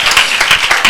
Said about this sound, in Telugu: గట్టిగా చప్పట్లు కొట్టి యేసుకి మహిమ చెల్లించండి